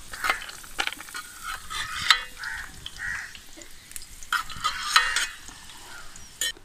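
Raisins frying in hot coconut oil for an Irinjalakuda-style dum biryani, giving an uneven crackling sizzle broken by stirring scrapes and a few sharp clinks of a utensil against the pan.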